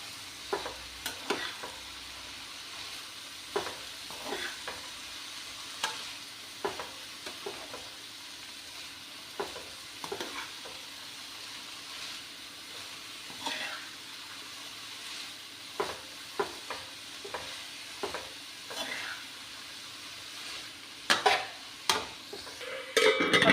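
Drumstick flowers stirred into a spiced tempering in a pan: a soft, steady sizzle broken by frequent spatula scrapes and taps at an uneven pace, heard close with no voices.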